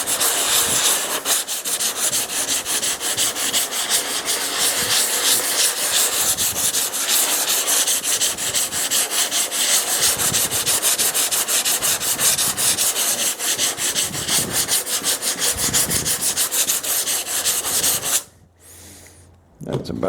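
Continuous close scraping of 80 grit sandpaper over Bondo filler on a 1929 Chrysler window channel corner, rapid back-and-forth strokes going on for most of the time before a sudden stop.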